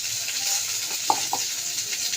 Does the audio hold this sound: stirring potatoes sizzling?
yes